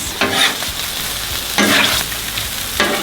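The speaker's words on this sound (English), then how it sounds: "All right, give that a mix." Sausage and peppers pasta is tossed on a Blackstone griddle, producing a continuous loud sizzle with three bursts of scraping and stirring from a spatula, and no speech.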